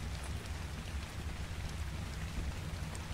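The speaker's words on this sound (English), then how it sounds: "Oh, it's raining." Steady rain falling in the video game Ark Survival Evolved, a continuous even patter with low rumbling underneath, moderately loud and unbroken with no voices.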